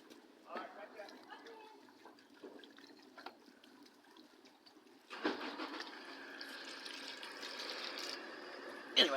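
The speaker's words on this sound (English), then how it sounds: "Anyway, you don't need to fill up too much water." Tap water runs into a pot, starting after a stretch of quiet handling noises and continuing as a steady rushing, filling sound, close and moderately loud.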